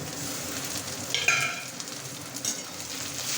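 Dried fish and chopped tomato frying in a pan, a soft steady sizzle with a brief flare of louder hissing and a few light scrapes of stirring, close by and without talk.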